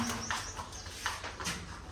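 Soft cooing and fluttering of several pigeons nearby, with short calls rising over a low background rumble.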